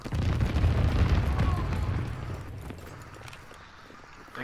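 A grenade explodes in Call of Duty: WWII on the Winter Carentan map: a heavy, booming blast that rumbles loudly for about two seconds, then decays into a fainter tail.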